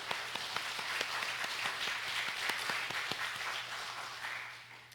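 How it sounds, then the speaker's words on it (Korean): A church congregation applauds during a Sunday service, clapping with a loose, rhythmic pulse of distinct claps over a low hum. It stays fairly soft and fades gradually toward the end. "다시 한번 우리 하나님께 영광의 박수 올려드리겠습니다."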